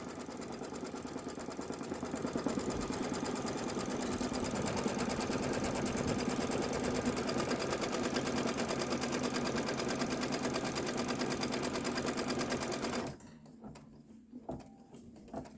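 An embroidery machine stitches quilting in the hoop with a steady, rapid mechanical chatter that runs loud and continuous for about thirteen seconds, then stops abruptly, leaving faint handling noises.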